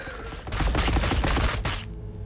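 A burst of rapid gunfire in Warhammer 40,000: Battlesector, a dense rattling volley lasting about a second and a half, loud and close, then cutting off into a low lingering rumble.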